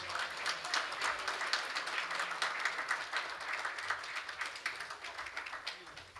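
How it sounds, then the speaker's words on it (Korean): Congratulatory applause from a seated audience at a corporate founding-anniversary business strategy forum award ceremony, steady dense clapping sustained throughout at moderate level, with no talk over it. "축하의 박수 부탁드립니다"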